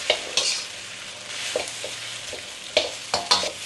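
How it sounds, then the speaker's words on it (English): Thai fried rice with pork, kale, onion and tomatoes is stir-fried in a pan, a soft sizzle under intermittent utensil scrapes and taps, close and moderately quiet. "Stir fried it."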